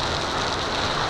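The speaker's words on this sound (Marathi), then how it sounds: "अर्ध्या तासात पावसाने माहोल बनवला आहे," Heavy monsoon rain pouring down in the Konkan countryside, a close, dense and steady hiss of drops hitting surfaces, with no voices.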